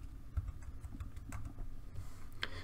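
Soft keystrokes on a computer keyboard as a word is entered into a browser settings search box, a few quiet irregular taps over low room hum.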